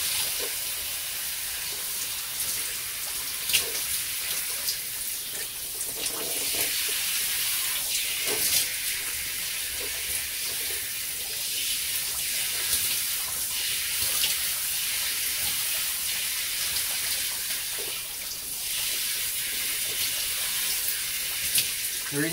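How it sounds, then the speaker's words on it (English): Shower water running steadily as hair is rinsed, a continuous close hiss with occasional splashes and shifts as the stream hits hair and body, with no voice. "So, now I rinse my hands off. And then I rinse out my hair."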